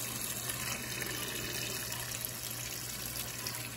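Water runs steadily from a kitchen tap into a pot, a continuous close hiss and gush after hot water from boiled eggs is poured out, with no talk.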